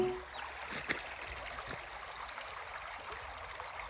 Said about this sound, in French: on arrive au niveau d'une petite rivière qu'il va falloir traverser